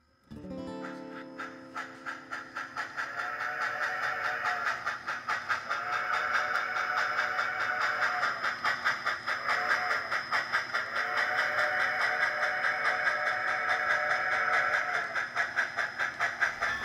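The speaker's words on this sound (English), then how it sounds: "3666 West departing Bakersfield, bound for Roseville with a mixed freight" An HO model railroad freight train, number 3666, departs Bakersfield with a mixed freight on a club layout: a steady, close mechanical hum and rhythmic clicking of wheels, with a pulsing sound-effect engine chug building over time.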